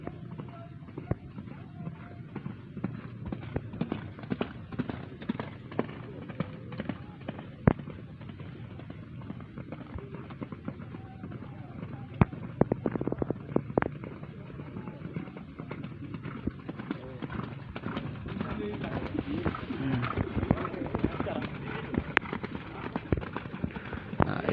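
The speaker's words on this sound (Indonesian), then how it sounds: "Ada beberapa kuda yang bisa kita pantau sedang melintas di hadapan kita." Horses in training for a traditional Gayo horse race gallop past, with rapid clip-clop hoofbeats that rise and fall as they pass. Crowd noise and voices sound in the background throughout.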